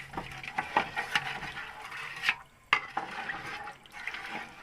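A spoon stirs beef trotters and spices in water inside a cooking pot, producing close wet sloshes and sharp scraping clinks at an irregular rhythm.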